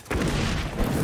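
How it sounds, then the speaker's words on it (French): A grenade blast in a free-to-play FPS game: a sudden loud low boom that rolls into a dense, sustained rumble filling the whole second. "Grenade."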